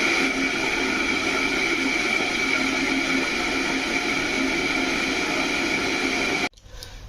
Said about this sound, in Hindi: लगभग 10 सेकेंड बाद ही इसके अंदर से हमें पानी बॉईल होने की आवाज़ सुनाई देने लग जाती है जिसे आप सुन सकते हैं।